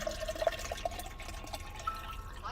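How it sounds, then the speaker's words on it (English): Water poured into a mug fitted with a hanging electric heating element gives a faint, close trickle with a few small bubbly plinks early on, soft and quiet with no talk. "So I'll pour the water in it."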